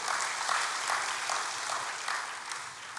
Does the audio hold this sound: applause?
yes